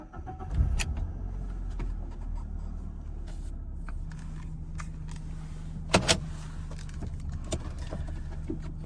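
The engine of a 1997 BMW 316i Compact starts, then idles and pulls away with a low, steady hum inside the cabin, punctuated by a few clicks and knocks.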